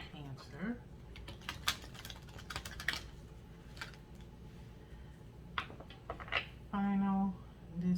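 Tarot cards being shuffled by hand, heard as a run of quick papery clicks and riffling bursts, with a brief voice and a short steady tone near the end.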